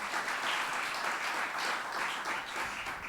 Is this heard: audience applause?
yes